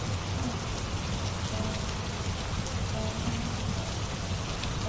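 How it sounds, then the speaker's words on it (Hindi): Steady rain falls outside, a dense, even patter that holds at the same level throughout with no pauses. "रामू बाहर बारिश देखने चला जाता है।"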